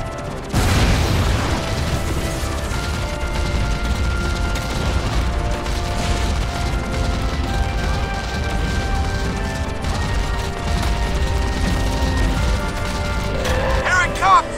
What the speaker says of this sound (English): That thing's gonna explode on me, bro.